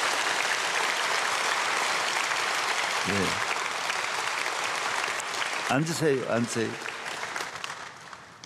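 Church congregation applauding during an early-morning prayer service, a broad, steady wash of clapping that carries through the whole stretch, with someone speaking briefly over it near the middle and end.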